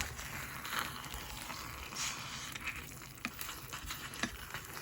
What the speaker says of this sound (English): Just keep stirring it. Keep stirring it.